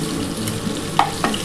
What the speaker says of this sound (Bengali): যে কটা আছে আমি ভেজে নিচ্ছি।